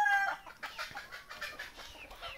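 Desi Sonali chickens on a free-range farm, a close series of clucks and short calls from hens and roosters in quick irregular bursts, with no talking.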